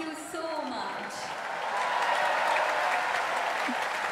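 A concert audience at the Royal Albert Hall claps steadily in broad, sustained applause that swells slightly as it continues, with a faint voice over it at the start.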